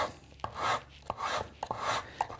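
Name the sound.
sanding wood with 100 grit sandpaper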